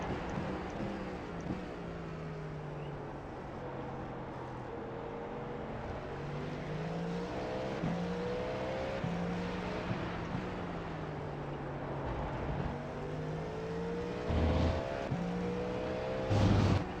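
A Cadillac V-Series.R LMDh race car engine in the iRacing video game whines loud and close, pitch climbing and dropping through gear changes with sharp bursts near the end.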